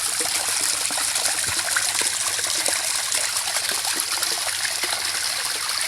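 A waterfall flows steadily outdoors in a river or stream setting, a constant broadband rush of splashing water without pause, moderately loud and close throughout.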